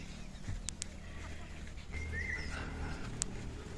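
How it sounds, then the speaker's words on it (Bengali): Chickens cluck and chirp softly in open outdoor surroundings at a homestay near Ramdhura, with a low steady background hum and a few sharp clicks. "এনাদেরই এখানকার মুরগি"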